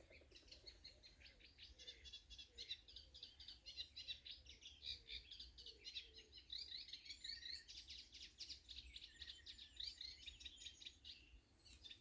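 A bird sings continuously in repeated chirping, warbling phrases, moderately distant, beside a river, with a faint insect-like background hum and no talking.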